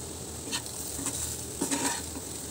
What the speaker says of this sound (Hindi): नमक और गरम मसाला डालकर हम इसे मिक्स कर देंगे।